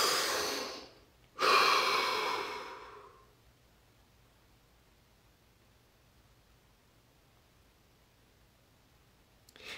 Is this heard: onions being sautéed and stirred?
no